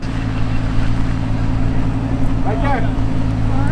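Off-road truck engine on a trail hill climb at Pilot Rock, a loud steady low rumble throughout with a brief voice over it.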